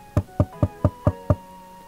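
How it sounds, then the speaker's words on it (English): Six evenly spaced knocks on a cottage door, firm and close, in a steady rhythm lasting just over a second, with no voices. "The grandmother heard the knocking at the door."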